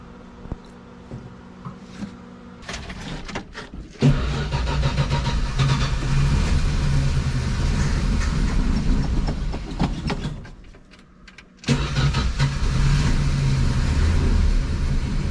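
A 1967 Dodge Dart cranks for about a second, then fires and settles into a loud, steady, rumbling idle that briefly sags and nearly dies before catching again and running strongly, heard close up with no talking.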